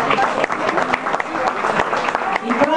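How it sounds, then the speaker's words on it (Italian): An audience at a music show applauds a singer with fairly close, uneven clapping and a few voices mixed in beneath it. "Facciamo un bel applauso"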